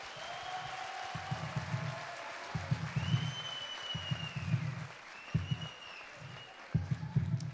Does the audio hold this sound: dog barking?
no